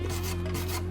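A grill brush scrubs a wooden board from a tandem bicycle restoration, a close, continuous rasping rub lasting about a second, with no talk.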